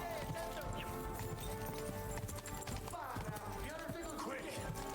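Horse hooves clip-clopping at a gallop in the medieval game Kingdom Come Deliverance II, steady and continuous against dense game music and ambience, with someone talking over it.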